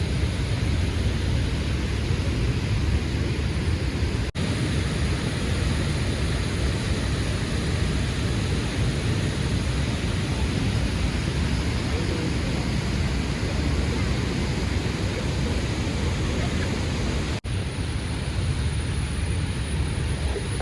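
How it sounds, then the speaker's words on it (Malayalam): Rushing water at Thommankuthu waterfalls, a dense, constant roar that stays loud and steady without a break, with no talking heard over it. "വെള്ളം ഒഴുകണതിൻ്റെ ഒരു ശക്തി കണ്ടില്ലേ, നല്ല ശബ്ദം കേട്ടോ."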